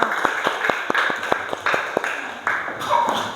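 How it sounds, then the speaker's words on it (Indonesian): Classroom of primary-school pupils clapping together for everyone, a quick run of sharp, fairly even claps close by that thins out toward the end, with faint voices underneath. "Tepuk tangan buat semuanya."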